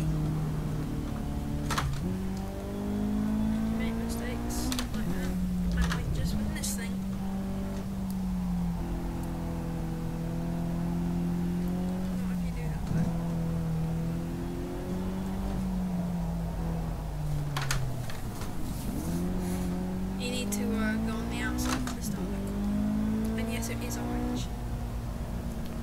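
Mitsubishi EVO X saloon engine in the racing game Project Cars, a steady droning drone with rising and falling revs and gear shifts, held loud throughout under intermittent talking.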